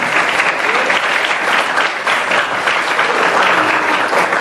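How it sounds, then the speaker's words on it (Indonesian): Dense, sustained applause from a school audience at a National Heroes' Day inspiration class, loud and steady throughout with many hands clapping together. "Tepuk tangan."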